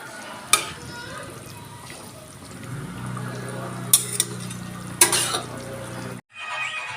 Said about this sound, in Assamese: ওলকবি আৰু আলুৰ চব্জিখিনি উতল আহিছে আৰু মই ইয়াতে মাছ পেলাই দিলোঁ